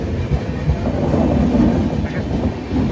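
Steady low rumble of a passenger train rolling along the rails on a long-distance run from Pune to Thiruvananthapuram, heard from onboard, continuous and fairly loud with no talking.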